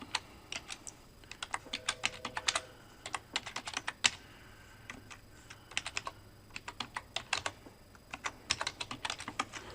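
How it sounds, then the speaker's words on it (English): Numbers keyed into a calculator on a computer keyboard for a surface-area math problem: close, crisp key clicks in quick irregular bursts separated by short pauses, with no talk. "Let's type all that in and see what we get."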